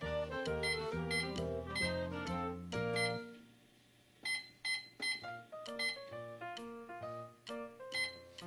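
A Minnie Bowtique toy cash register gives a rapid run of bright electronic beeps and chimes, then after a brief pause a second series of spaced, ringing tones, close and clear with no talking.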